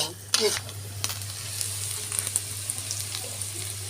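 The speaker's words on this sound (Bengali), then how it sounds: "ভালো করে নাড়াচাড়া করে ভাজা ভাজা করে নিব।" Pieces of chicken stirred and frying in a pan for a homemade sandwich, a soft sizzle with faint scraping stirs under a steady low hum.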